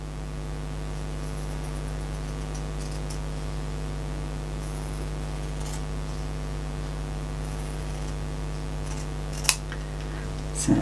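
Scissors cut fabric for a handmade bag: a few sparse, faint snips over a constant low electrical hum, with a sharper cut near the end.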